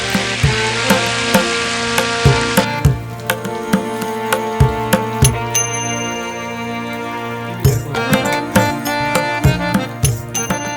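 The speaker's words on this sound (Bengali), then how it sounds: "প্রথমে কড়াইয়ে তেল গরম করে আগে থেকেই কেটে রাখা আলু হালকা হলুদ দিয়ে গোল্ডেন ব্রাউন করে ভেজে রাখুন" Sliced potatoes with a little turmeric frying in hot oil in a wok. A steady sizzle runs throughout, with repeated stirring clinks and scrapes against the pan, up close and with no talking.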